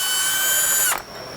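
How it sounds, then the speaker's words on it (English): An impact tool spinning a 3/4 inch socket off a Ski-Doo 850 Summit clutch bolt, a loud whining buzz that cuts off abruptly near the end. "3/4 inch socket, rattle it off"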